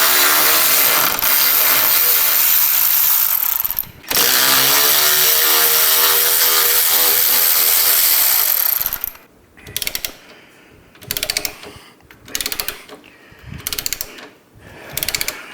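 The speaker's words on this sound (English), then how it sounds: "we're going to take a 5/16 hex and we're going to remove this bolt for the floorboard mount" A 5/16 hex ratchet working a floorboard mount bolt on a motorcycle, a loud continuous clicking ratchet for several seconds, then separate bursts of ratcheting strokes with short pauses between them.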